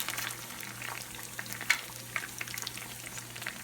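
Chicken satay sauce made with ketchup and soy sauce sizzles softly in a pan, a faint, steady fry with light crackles and a few stirring clicks, no talk.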